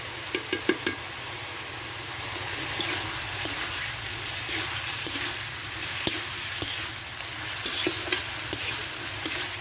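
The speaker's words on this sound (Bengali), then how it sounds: "জিরা গোলমরিচ আর গরম মশলা ভালো করে মিশিয়ে দেবো" Ground cumin, pepper and garam masala paste stirred into cabbage frying in a pan, with a constant sizzle under irregular, close spatula clacks and scrapes.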